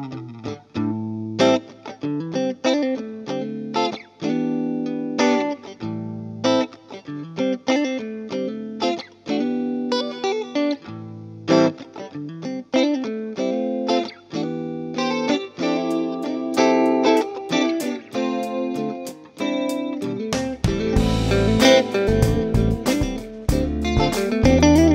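Heavily processed electric guitar with Lollar Gold Foil pickups plays a continuous riff with reverb, swirling chorus, flanger and delay, and grows thicker and fuzzier near the end, loud and sustained.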